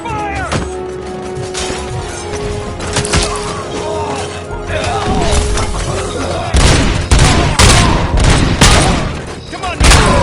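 Covering fire in the video game RoboCop: Rogue City: a steady battle din builds into a heavy volley of loud, overlapping gunshots and impacts during the second half, with voices shouting in the mix.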